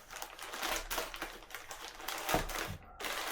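A parcel from China is carefully opened at close range, with a stream of crinkling, tearing and tapping of plastic packaging, one sharper thud near the end, and no talk.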